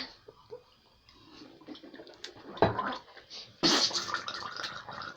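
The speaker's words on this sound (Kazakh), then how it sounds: "Ішіп қоймаймыз, шайқаймыз ауызды." Someone swishes and gargles salt water in their mouth, a wet bubbling and sloshing close to the listener that comes in uneven bursts, getting louder toward the end, with no speech.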